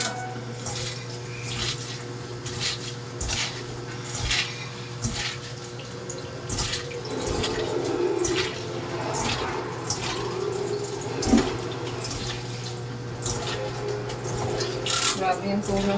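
Water runs from a kitchen tap in a home kitchen, a steady splashing stream into a sink, with clinks of dishes and handling noises over it.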